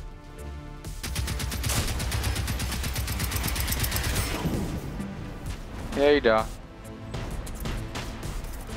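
Rapid automatic gunfire rattles in a long burst during Generation Zero gameplay, followed by a loud explosive crash and scattered shots, with players talking over the action.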